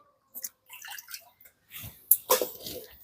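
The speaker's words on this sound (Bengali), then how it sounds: "এই বাটি মেপে আমি এক বাটি জল দিয়ে দিচ্ছি" Water poured from a measuring bowl into a pot while making rice-flour pitha: a few short splashing, trickling bursts with pauses between, close and moderately quiet.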